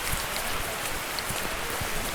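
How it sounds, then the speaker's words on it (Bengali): Heavy rain drums steadily on a bus during a journey from Port Blair to Diglipur, a dense, even hiss with scattered low thumps of drops striking nearby surfaces. "বাসের মধ্যে প্রচুর বৃষ্টি দেখো আমার ফোন ফোন সব ভিজে যাচ্ছে"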